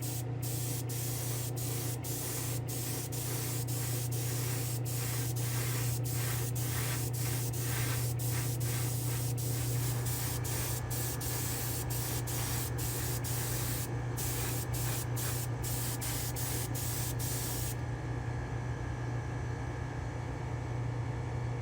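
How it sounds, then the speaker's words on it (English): Spray clear coat hisses steadily onto a diecast Dukes of Hazzard county sheriff cruiser in a spray booth, a continuous close hiss broken by short pauses and a steady low hum underneath. "I'll meet you in the spray booth and we'll just clear coat this bad boy quick"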